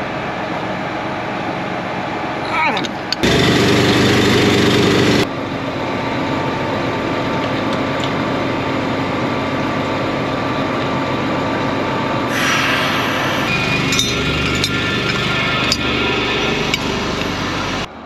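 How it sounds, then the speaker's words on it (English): An 8320R tractor engine runs with a loud, steady drone from start to finish, with brighter rattling surges partway through and no talking. "this is my ride for the day, the old 8320R."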